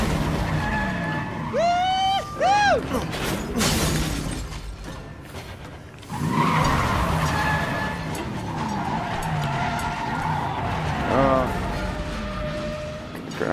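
Tires screech and skid as a car drives in the video game Resident Evil: Biohazard, with two sharp squeals, then engine noise, crashes and another brief squeal; a player shouts and talks over parts of it.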